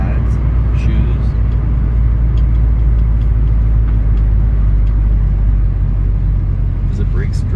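A 1966 Ford Mustang driving on the road after sitting for years, a steady low engine rumble heard from inside the car, with voices talking over it.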